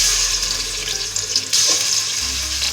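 Chicken meat goes into hot ghee in a pot for chicken nihari, giving a steady loud sizzle and hiss that runs through the whole stretch with no talk.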